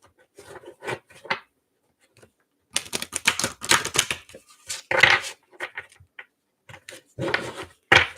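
Quick papery riffling and tapping of tarot or oracle cards in irregular bursts, close and crisp, with pauses between shuffles.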